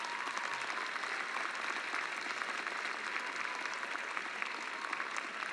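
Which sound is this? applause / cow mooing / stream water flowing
applause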